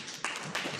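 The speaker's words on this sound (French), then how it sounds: "Très bien, applaudissez, bravo." A class of students applauds briefly in a lecture room, with two short bursts of clapping at moderate level.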